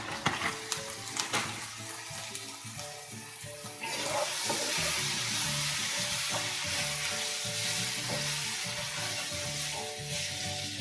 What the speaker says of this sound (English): Trying not to burn the garlic.